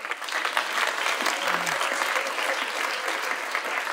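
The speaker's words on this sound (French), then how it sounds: "Applaudissez pour la parole" Dense, steady applause from a church congregation during a sermon, loud and continuous throughout with a brief voice murmur partway through.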